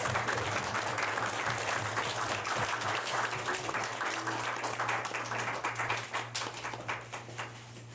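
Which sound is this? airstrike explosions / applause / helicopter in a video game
applause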